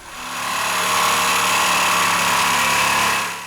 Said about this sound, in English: his students are beginning their assignment by marking, measuring, and sawing